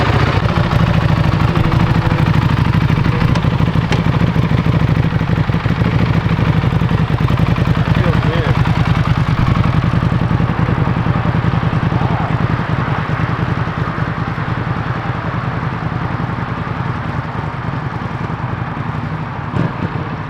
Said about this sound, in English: He's gonna take the Buell out for a quick little ride.